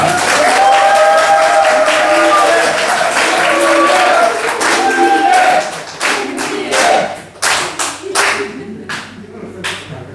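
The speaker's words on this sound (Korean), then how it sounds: "가장 큰 박수로 모시겠습니다" An audience at a Democratic Party press conference in North Gyeongsang applauds to welcome a candidate for provincial party chair. A dense, loud ovation with some voices gives way to scattered individual claps that taper off.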